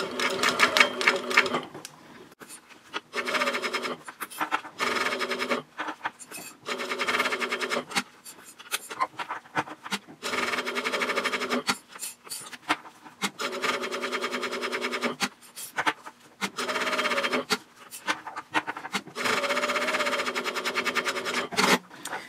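A sewing machine back-stitches and stitches a seam on a bag, running in loud, close bursts of rapid mechanical chatter with short pauses between runs. A brief spoken word is heard.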